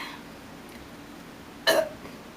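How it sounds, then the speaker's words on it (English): A single short burp during a home burping contest, brief and fairly loud against a quiet room, with nothing else around it. "I wonder how many times I burped."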